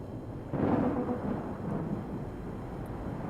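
A dust storm in a video game demo rises suddenly as a low, rumbling roar of wind and steady broadband noise that lasts to the end.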